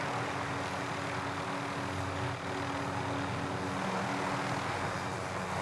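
A helicopter in the video game Call of Duty: Modern Warfare drones steadily with a dense, constant rotor and engine roar that never lets up.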